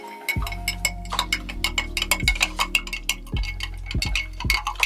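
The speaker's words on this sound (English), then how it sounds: "I'm just going to give it a quick stir." Spoon stirring a scoop of powdered drink mix in a glass: rapid, irregular metallic clinks and taps against the glass, with a few low thumps, close and fairly loud, no voices.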